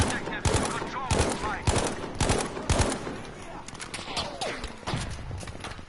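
Gunfire in Battlefield V, played in a Domination match: repeated loud, sharp bursts of shots, some in rapid machine-gun runs, fire steadily through a noisy battlefield with a voice audible in the mix.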